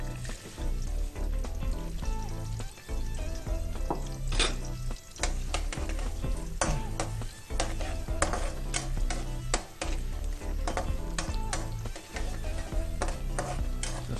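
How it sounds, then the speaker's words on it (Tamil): Onions fry and crackle in hot oil for a Ceylon fish curry, a busy close sizzle broken by stirring scrapes and clatter over a low background rumble. "சூடான இந்த எண்ணெயில் ஆனியனை போட்டு நல்லா தாளிச்சிடணும்."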